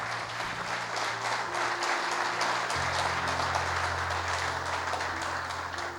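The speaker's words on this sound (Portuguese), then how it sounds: "Quem crê, aplauda o nome dele bem forte" A church congregation claps steadily for about six seconds, a dense wash of applause under a low sustained tone, with no clear speech.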